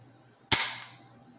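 The trigger of a Smith & Wesson M&P 15-22 rifle is pulled on a dummy round, giving a single sharp, close metallic snap with a quick decaying ring against near silence.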